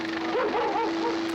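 Dogs bark and yip in a 1968 horror film, a short burst of rising and falling yelps over a steady tonal hum.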